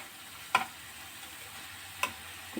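Chicken frying in a pan for a sandwich filling, a soft continuous sizzle under occasional sharp spatula clicks and scrapes against the pan, quiet and close.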